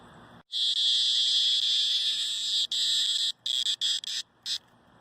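Cicadas call in a loud, close, high-pitched buzzing drone that holds steady for a few seconds, then breaks into short choppy bursts with gaps between them.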